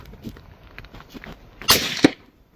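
Rifle shot with a muzzle brake and a Mack Bros Zenith .30 caliber suppressor fitted, a single sharp report followed by a brief thump, standing out from quiet range background.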